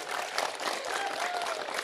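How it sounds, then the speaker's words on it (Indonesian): An audience applauds Pak Anies at a televised event with Gorontalo farmers, dense continuous clapping of moderate loudness, with a faint voice or tone sliding through it. "Beri tepuk tangan dulu yang meriah untuk Pak Anies."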